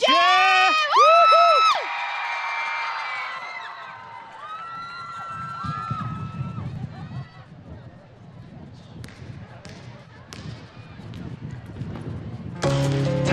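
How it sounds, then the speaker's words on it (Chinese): At an outdoor National Day fireworks gala concert in Taichung, high shrill screams from the audience ring out, then a broad crowd roar of cheering and clapping rises and falls, with amplified voices over it. "尖叫声跟掌声"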